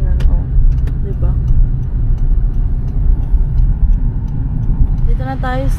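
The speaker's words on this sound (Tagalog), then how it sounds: "Madami naman mga sasakyan, oh." Steady traffic rumble from cars passing on roads near a Walmart in Scarborough, heard from inside a moving vehicle, with people talking over the continuous engine and road noise.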